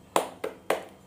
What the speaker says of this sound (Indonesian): Ustazah mau tepuk semangat